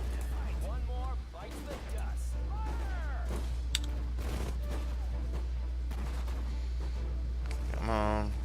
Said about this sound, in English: We're eating mortar fire like idiots.